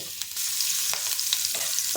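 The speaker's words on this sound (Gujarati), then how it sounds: "બધું જ અહીંયા થોડું સાતળી લઈશું।" Garlic, chopped ginger and green chilies sautéing in hot oil, a steady close sizzle with a few brief stirring scrapes and no voices.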